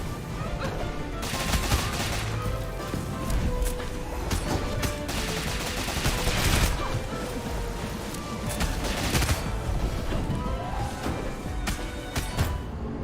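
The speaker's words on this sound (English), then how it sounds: "I was shooting." Dense, continuous video-game gunfire fills the whole stretch, rapid bursts and volleys layered over explosions and crashes, loud and busy throughout with no clear pauses.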